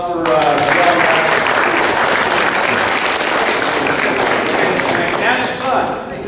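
Audience applause fills a church hall during a neighborhood watch meeting, a dense, steady clapping that holds loudly for several seconds before thinning near the end, with a voice briefly heard over it.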